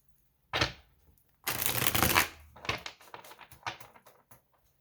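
Tarot cards are shuffled and pulled during a full moon reading, with a soft riffling burst followed by a few quiet papery flicks and taps close by.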